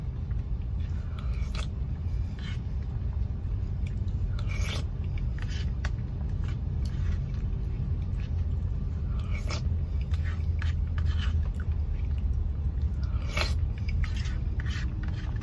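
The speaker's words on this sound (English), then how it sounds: "You can hear me slurping the cheese." Close-up wet eating sounds of cheesy mac and cheese from Roy Rogers, soft smacking and slurping with chewing, recur irregularly over a low background hum.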